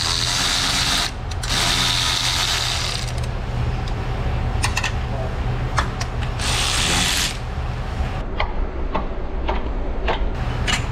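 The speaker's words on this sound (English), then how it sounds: "We shall begin by removing this engine mount right here." Ratchet wrench clicking while removing an engine mount on a front-wheel-drive car with an LS V8, rapid close pawl ticks in bursts with short metallic clanks between them, no talking.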